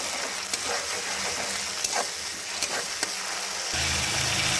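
Tomato and ginger paste sauté in a pan with a low, steady sizzle and a few short spatula taps, the hiss growing slightly fuller toward the end.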